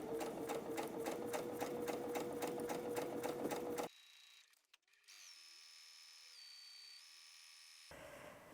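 Sewing machine top stitching the edge of a Tilda fabric pillowcase, running steadily and close with a rapid, even needle rhythm for about four seconds before stopping, followed by quiet room tone.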